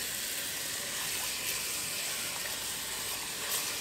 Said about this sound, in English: I'm just going to go ahead over here and put some fresh water on this.